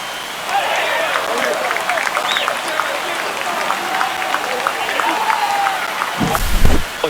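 A home crowd at a Boston Red Sox vs Tampa Bay Rays spring training baseball game roars and applauds after a home run, a sustained loud wash of cheering with scattered claps throughout.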